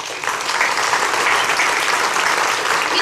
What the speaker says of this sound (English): You guys give her a round of applause.